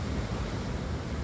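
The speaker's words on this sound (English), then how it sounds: "Look at the wind. Look at the snow." Steady wind roars through a snowstorm at a 30 m telescope, a dense, even rush of noise without breaks or voices.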